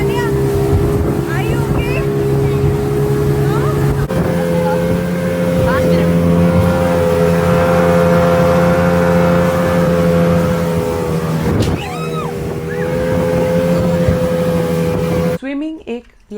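A speedboat races over waves with a loud, steady engine drone and wind rush, broken by a couple of hull slams before the engine cuts out near the end.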